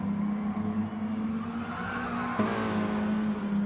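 Hot hatch race car in Gran Turismo Sport at the Dragon Trail circuit, its engine droning steadily as it slides off track after a missed braking point, with a sharper burst of tire and gravel noise midway.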